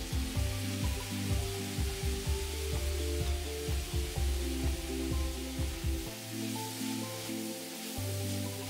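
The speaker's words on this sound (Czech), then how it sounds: "Dále přidám lžici octa, kterou nechám odpařit." A spoon of vinegar hits a hot pan while making svíčková and hisses steadily as it boils off, a continuous sizzle under rhythmic background music.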